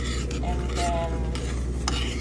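Semolina being stirred in ghee in a pan, a steady close scraping and rubbing of spoon against metal with faint sizzle underneath, continuous throughout.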